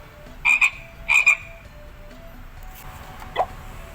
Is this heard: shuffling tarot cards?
no